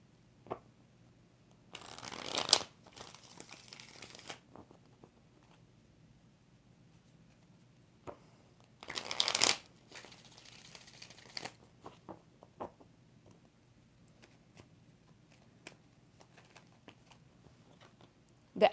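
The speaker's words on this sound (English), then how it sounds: "2 more shuffles." Tarot cards are shuffled by hand in two short riffling bursts several seconds apart, close and crisp, with soft card handling and light taps in the quiet between.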